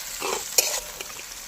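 Rice being stir-fried in a wok for village-style fried rice: a short burst of sizzling with a sharp metal scrape and a couple of lighter stirring knocks, close up, with no speech.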